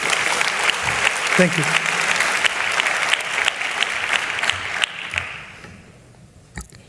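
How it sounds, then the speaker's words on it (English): An audience at the closing plenary of the Enterprise Europe Network Annual Conference 2025 applauds Neutech Park colleagues with steady, dense clapping that fades out near the end, and a voice briefly speaks over it. "I think we can give a very quick round of applause to Neutech Park colleagues who worked on it."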